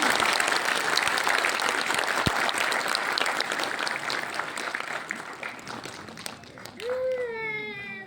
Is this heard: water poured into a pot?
no